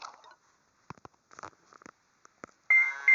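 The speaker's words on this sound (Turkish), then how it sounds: "Aa telefon çalıyor." A phone starts ringing with a sudden loud, sustained electronic ring tone near the end, after scattered soft clicks and small handling sounds in a quiet room.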